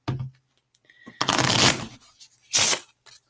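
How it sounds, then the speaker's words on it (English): Deck of cards for the Marvel Champions card game being shuffled, two distinct riffle bursts, close and fairly loud, the first longer than the second, with no talking. "You shuffle up your deck."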